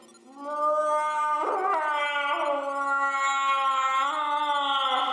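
A person vocally imitates a whale call with a long, sustained, wavering tonal moan that slides in pitch, loud and close with no other sounds.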